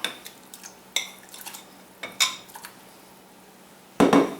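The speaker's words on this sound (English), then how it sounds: "I just dumped it in the pot." Eggs dumped into a pot of chicken soup for deluxe egg drop soup, heard as a few close, sharp clatters and knocks of kitchenware against the pot, with a louder splash-like burst at the end.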